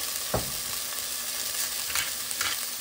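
Food frying in a pan for beef and rice meatballs, with a constant close sizzle and a few soft scraping stir strokes, no voices.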